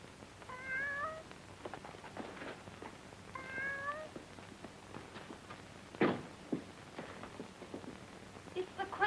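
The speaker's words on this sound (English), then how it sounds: "It's the Quentin cat." A cat meows twice in a drawn-out, rising-falling wail, then gives a sharper yowl, with light footsteps and small movements between the calls, fairly close and clear against a quiet room.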